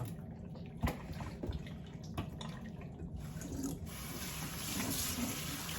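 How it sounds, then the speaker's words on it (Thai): Water runs from a tap for handwashing, a steady close splashing stream with a few louder drips and knocks, growing fuller toward the end, with no voices. "ไปเปิดน้ำล้างมือ"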